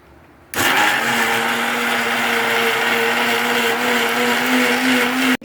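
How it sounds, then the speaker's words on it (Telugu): Mixer grinder blending green chicken masala paste with a little water. It switches on abruptly into a loud, steady, high whir that runs alone and cuts off at the end. "కొద్దిగా నీళ్ళు పోసుకొని మిక్సీ పట్టుకోవాలి."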